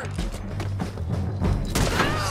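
Gunfire in Red Dead Redemption 2 on a foggy stretch, a dense run of booming shots and thuds over a steady low rumble, loud and close, with a brief voice partway through.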